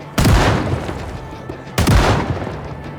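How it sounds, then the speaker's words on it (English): Shotgun fire at zombies in a zombie-apocalypse survival video game: two loud, close booming blasts about a second and a half apart, each trailing off in a rumbling decay, with no talking. "Man, John loves his shotgun."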